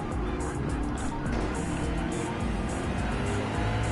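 GT3 race cars roar past on the Watkins Glen circuit in a racing game, a dense, steady engine drone at full volume with no gaps, with passing surges and a faint hint of tire squeal.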